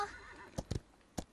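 Horse mount in the video game Paladins, whinnying: a short run of sharp, close, loud bursts, two close together, then one more after a pause, heard alone.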